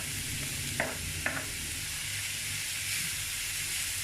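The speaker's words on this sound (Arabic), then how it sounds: "الزيت حمي، بدي انزل اول شي البصلة." Chopped onion frying in hot oil in a pan for kibbeh, a loud steady sizzling hiss with two short scraping stirs near the start, close and continuous, no talking.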